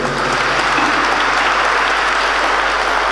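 An audience at a Catholic religious gathering claps steadily and densely, a loud, continuous wash of applause filling the whole stretch without talk.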